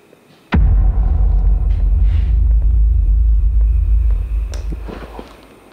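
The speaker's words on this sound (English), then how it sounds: "there has been a ridiculous thunderstorm, lightning storm happening" A sudden deep rumble of thunder from a thunderstorm bursts in and rolls on loud and low for several seconds before slowly fading, heard from inside the old Yorktown hospital building.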